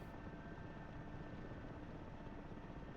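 Steady, dense helicopter rotor and engine rumble from the DCS flight simulator video game, continuous and even throughout with no talking.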